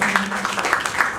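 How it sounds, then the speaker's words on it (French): Audience at the pre-launch information session of the EuropAfricaInvestment forum clapping for Africa; short burst of uneven applause with a voice briefly heard under it. "je voudrais qu'on applaudisse pour cette Afrique-là."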